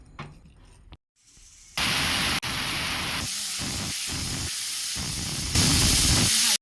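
A pressure cooker cooking beef curry vents steam in a loud, sustained hissing whistle that cuts in abruptly, holds for several seconds with a brief break, then swells louder before stopping, with no one speaking.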